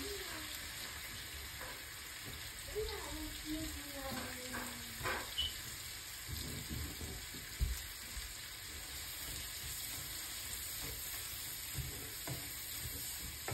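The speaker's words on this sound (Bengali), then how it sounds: "এই যে ডিমটা ভাজি উঠাইছি, এখন পেঁয়াজটা দিয়ে দিই।" Onion frying in a pan just after an egg has been fried, a steady sizzle with occasional stirring scrapes and light clinks, fairly quiet and continuous throughout.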